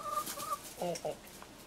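A backyard rooster gives short clucking calls, a couple of brief close bursts over faint outdoor background noise, with no talking.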